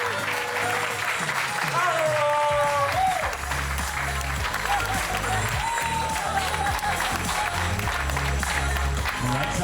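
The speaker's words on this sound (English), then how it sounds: "Give them a big round of applause." Wedding reception guests applaud as a couple is welcomed in during the grand entrance, loud sustained clapping under music with a strong bass beat and a brief voice near the start.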